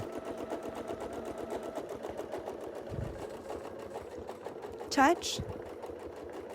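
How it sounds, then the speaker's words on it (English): Sewing machine stitching a quilted wreath design, running in a steady rapid mechanical rhythm throughout at close range, with a brief sharper click near the end and a voice speaking over it. "So I'm going to sew back on the bottom there until I get to C, just to make sure that I'm following the template all the way."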